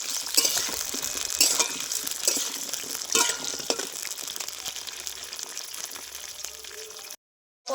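Pointed gourd (potol) frying in hot oil, reused from an earlier batch, for a Bengali potol chingri dish: a steady close sizzle with scraping stirs and clinks of a spatula, no voices.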